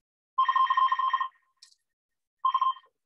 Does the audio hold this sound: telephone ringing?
yes